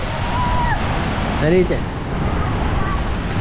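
Large storm waves pound the seashore at Divnomorskoye, a steady loud roar of surf, with a person briefly speaking over it.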